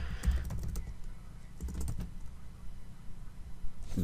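Quick bursts of keystrokes on a computer keyboard while a token name is typed, clicking in uneven clusters with short pauses, close and fairly quiet.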